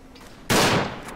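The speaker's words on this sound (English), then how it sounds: "There's a machine gunner somewhere around here." Loud burst of gunfire from Verdun, the World War I shooter game, breaking out suddenly after a quiet stretch and rattling on close and dense for most of a second before easing off.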